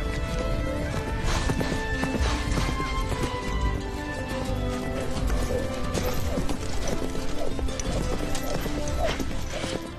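Horse hooves clip-clop during mounted bullfighting in an arena, rapid continuous hoofbeats with scattered knocks and occasional whinnies under a busy, loud background, with some talk.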